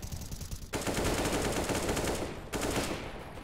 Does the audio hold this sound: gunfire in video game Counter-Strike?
yes